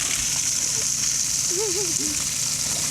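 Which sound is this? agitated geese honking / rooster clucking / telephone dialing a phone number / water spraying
water spraying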